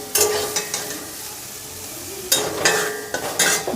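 Brahmi greens fry in ghee with a steady sizzle, punctuated by a few louder scraping stirs of a spoon in the pan, all close by and with no voices.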